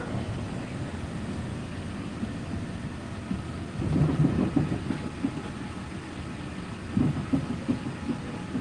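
A Walt Disney World monorail running, a steady low rumble and rattle from inside the car with a couple of louder rolling surges.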